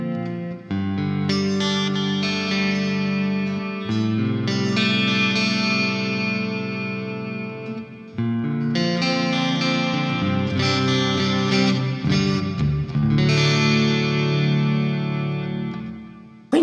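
Electric guitar played through the Neural DSP Archetype Nolly plugin with compression and delay, sustained chords and notes ringing with echoing repeats, loud and continuous with brief gaps.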